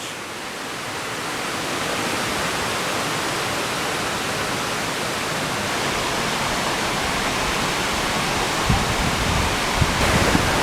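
A waterfall at Top of the Rock roars as a steady, dense rush of falling water, loud and continuous throughout with no talking.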